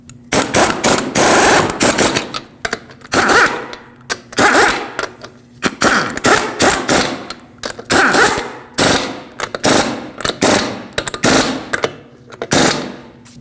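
An impact wrench rattles in repeated short bursts while lug nuts on a Lexus IS250 wheel are run down, each burst a sharp hammering chatter separated by brief pauses.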